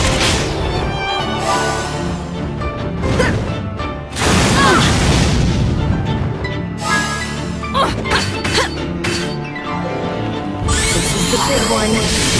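Full Barrage attack in Eternal Sonata, with heavy booming explosions and crashing bursts over a loud, dense backdrop of game music, while a voice calls out during the barrage.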